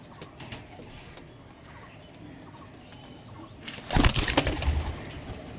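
Several pigeons coo in a loft with a steady low murmur, then a sudden loud burst of wing flapping near the end as birds stir close by.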